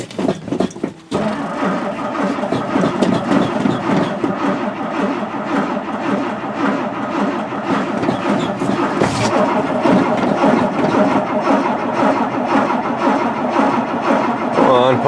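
An old car engine in a shed cranks and catches after a brief stumble, then runs with a rough, loud, steady rumble that keeps going to the end, heard up close.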